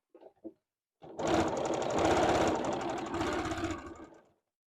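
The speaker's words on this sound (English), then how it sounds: "I sew as close to the edge as possible" A sewing machine runs steadily for about three seconds, stitching close to the edge of a qaspeq vest pocket, following a couple of soft handling taps.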